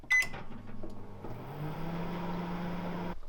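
A microwave oven warms buns for about twenty seconds, a door clunk and beep at the start giving way to a steady low hum with fan noise that runs close and alone until it stops near the end.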